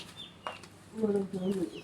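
Village chickens cluck in a short burst of low, throaty notes near the end, with a faint chirp earlier, heard close by in a quiet rural yard.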